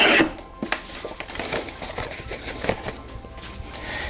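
A paper trimmer slices scored blue cardstock at 5 inches across the score lines, a close scraping, rasping cut with a few sharp clicks and knocks of the blade and paper, no talking.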